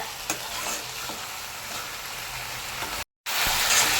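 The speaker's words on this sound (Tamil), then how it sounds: "இப்போ மட்டன் எடுத்து போட்டுக்கலாம் இப்போ எண்ணெயிலேயே நல்லா வதக்குங்க" Loud, steady sizzling of mutton frying in hot oil for mutton uppu kari, with occasional stirring scrapes, briefly cutting out before the crackle resumes.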